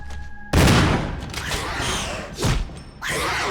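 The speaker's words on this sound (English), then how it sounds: "Keep that hunter at bay with the shotgun." Shotgun blasts fired at a hunter creature in Resident Evil HD Remaster: three loud, sharp booms, the first two about two seconds apart, each with a short ringing decay, and no voices.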